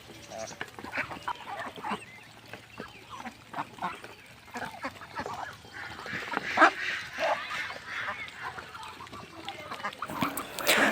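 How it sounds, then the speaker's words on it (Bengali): Farm ducks feeding during winter give nasal quacks and honks amid pecking and shuffling, calls scattered irregularly at close range, growing louder and busier toward the end. "কি সুন্দর খাবার খাচ্ছে হাঁসগুলা"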